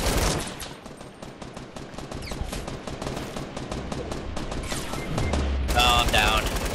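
Rapid automatic gunfire in a squad-based online shooter, dense bursts of shots packed close together and loud throughout, with a brief voice near the end.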